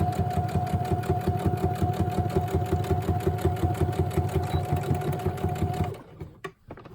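A sewing machine stitching a holiday craft piece runs in a fast, even, humming rattle for about six seconds, then stops abruptly, leaving a few faint handling noises.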